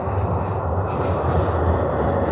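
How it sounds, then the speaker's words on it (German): A historic tram in Antalya rolling along, a loud, steady, close rumble with dense low-frequency clatter and no speech. "das ist eine Tour mit der historischen Straßenbahn"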